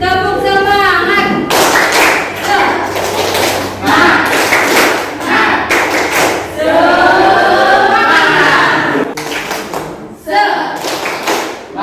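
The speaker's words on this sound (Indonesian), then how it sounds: "Tepuk semangat." A school class performs a rhythmic spirit clap, bursts of loud group clapping and hand slaps in a patterned beat, with brief voices chanting between the claps.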